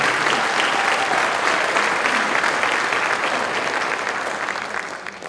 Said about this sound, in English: have a nice round of applause one more time